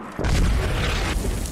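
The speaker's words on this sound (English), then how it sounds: "Fucking mortars coming in." Mortar shells exploding in the Squad game, a sudden heavy boom that hits loud and close, then rolls into a rumbling, crackling tail.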